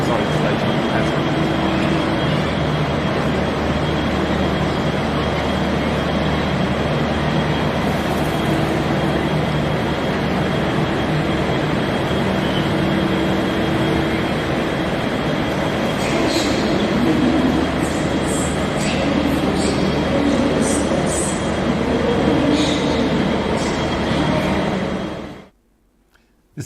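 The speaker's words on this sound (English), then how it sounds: "Now this is Southern Cross Station." A train rumbles at Southern Cross railway station in a loud, continuous roar of wheels and carriages, with faint higher squeals near the end before the sound cuts off abruptly.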